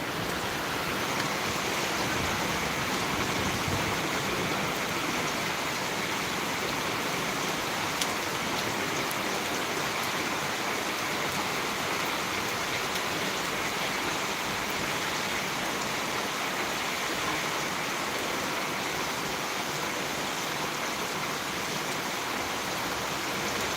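Heavy rain falling in Tirunelveli, a steady dense hiss that holds at the same loudness without a break for the full stretch, with no voices over it.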